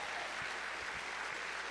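Applause from a church congregation during an evening worship service, a steady broadband wash of clapping sustained for the whole moment, moderately distant and fairly quiet, with no voices over it.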